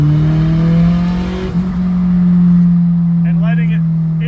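A built F24 engine in a car held at full throttle during ring break-in, a loud steady drone that runs continuously, with a brief dip midway and faint talk late in the pull.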